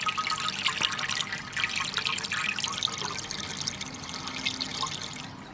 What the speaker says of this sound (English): Here's the adult pool. Lovely soothing trickling sound.